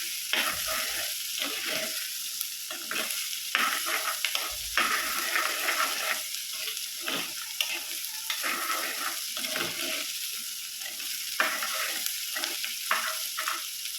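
Elephant foot yam sautéing in a pan for a Kerala theeyal, giving a steady close sizzle with repeated scraping stirs and spoon knocks throughout, no voices.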